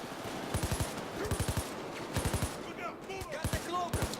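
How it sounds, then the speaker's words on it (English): Gunfire at a bulldozer enemy in Payday 2 rattles out in several rapid automatic bursts separated by short pauses, loud and close, with small metallic pings between volleys. "I want to shoot him in the chest, because usually when you shoot these guys in the chest, the bullets just bounce off of them."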